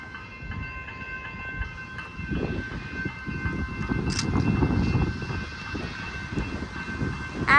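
A train approaches the Boundary Road level crossing near Hadfield, rumbling louder as it nears. The crossing bells ring steadily as high tones over the rolling clatter, which swells toward the end.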